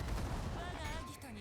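Main battery salvo from the battleship Mecklenburg in World of Warships, a faint, muffled rumble of massed gunfire rolling beneath game sounds and a voice.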